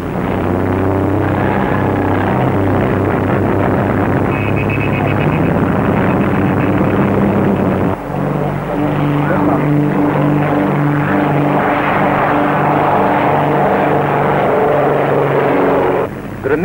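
Several Comet racing aircraft and other propeller planes take off one after another at the start of an air race, a loud steady engine drone with shifting tones throughout and a change in pitch midway.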